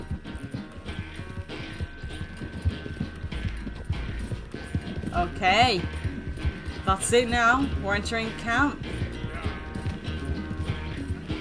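Horse hooves clip-clopping at a steady trot in Red Dead Redemption 2, arriving at a camp, continuous under game music with a whinny midway while someone talks over it.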